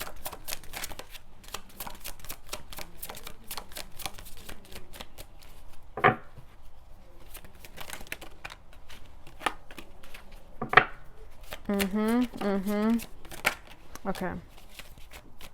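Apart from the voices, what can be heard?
shuffling tarot cards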